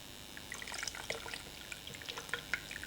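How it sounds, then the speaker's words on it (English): Water is poured gently into a container of black and white film developer while mixing it to temperature, a faint steady trickle with small bright drips and splashes throughout. "gently pouring them into the developer until I have my required 68 degrees"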